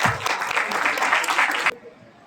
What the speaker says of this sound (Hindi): अब आ रहे हैं तनिष्क, तालियों से उसका स्वागत कीजिए।